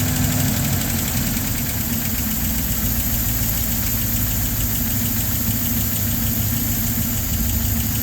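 An old LaSalle car engine with fuel starvation idles close by with a steady, loud, low rumble and a slightly uneven knocking beat that never changes, choke released.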